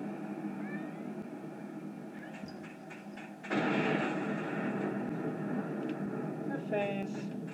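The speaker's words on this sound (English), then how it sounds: "Cats over here." Cats meowing in the Sonic the Hedgehog 2006 video game, with a few short mews over steady game background sound that gets louder partway through.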